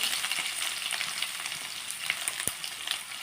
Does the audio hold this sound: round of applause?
no